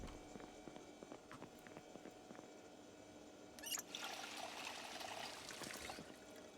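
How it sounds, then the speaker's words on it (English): Water poured into a bottle outdoors on a foggy day, a soft broadband trickle that starts midway and runs steadily at moderate level, with faint background noise before it. "Let's refill our water."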